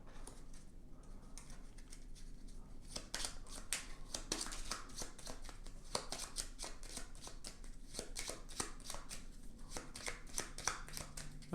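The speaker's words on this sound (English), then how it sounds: "then take the remaining discovery cards and add the other 3 bombs into this deck randomly, and then give that a good shuffle" A deck of board game discovery cards, mixed with bomb cards, is shuffled in a steady run of quick, close riffling and sliding card sounds that continue throughout, with no talk.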